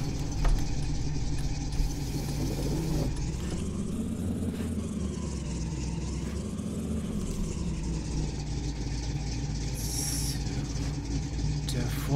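Vehicle engine driving steadily in Landwirtschafts-Simulator 19, a continuous mid-pitched motor drone with slight rises and falls in revs, close and even, with a voice speaking over it.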